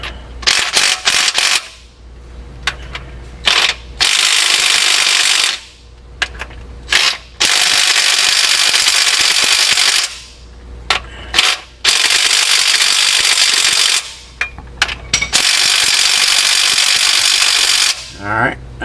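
A ratchet turns over an ISX engine during a main-bearing and thrust rebuild, giving loud bursts of fast clicking separated by short pauses.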